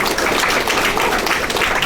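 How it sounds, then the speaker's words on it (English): A hall of fame and scholarship ceremony crowd applauding its inductees and recipients, dense steady clapping from many hands, even and sustained throughout. "Let's give our inductees and our recipients a round of applause."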